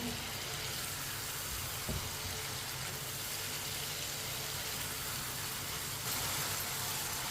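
Yogurt and masala cooking together in a pan for white chana, a steady close sizzle and frying hiss that holds evenly throughout with a brief clatter of stirring, and no talking.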